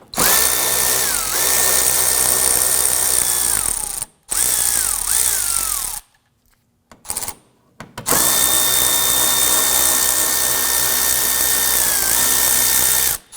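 A power tool removes 7mm screws inside the fender well of a 2015-2020 Ford F-150, a loud whirring drill whine in two long runs with pitch shifts, split by a brief quiet gap with small clicks.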